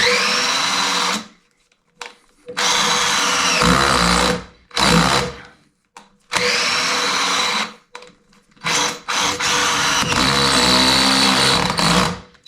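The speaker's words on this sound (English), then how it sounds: "I'll just go change my drill bit" A power drill whirs in several strong bursts, starting and stopping with short silent gaps between runs.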